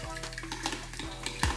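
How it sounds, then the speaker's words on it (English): Eggs being beaten in a bowl, a continuous scraping, stirring clatter with faint utensil knocks and a sharper clink near the end, close and moderately quiet. "we're gonna go ahead and just beat the living crap out these eggs. Stir them up."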